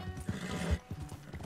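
A horse in the game Red Dead Redemption 2 whinnies close and fairly quietly while its hooves clop in quick, uneven beats on the ground.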